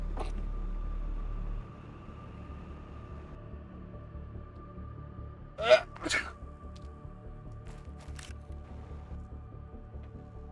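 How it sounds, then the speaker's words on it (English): A single sharp human sneeze rings out, with a quick follow-up burst, against a quiet room hum. "Gotta sneeze."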